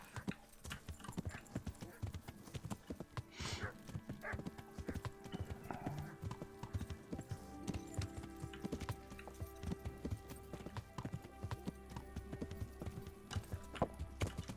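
Horse hooves clip-clopping in the video game Kingdom Come: Deliverance, a rapid rhythmic trot with an occasional whinny, game ambience and someone speaking over it.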